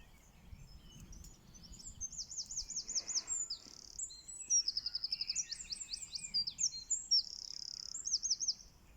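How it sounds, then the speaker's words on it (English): A blackbird sings fluid, warbling phrases at a moderate distance, repeating several times over quiet background noise with no talking. "Is that a blackbird? That sounds really nice."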